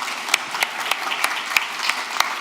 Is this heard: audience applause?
yes